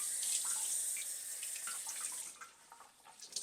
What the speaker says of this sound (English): Now I've made the sink water hot here.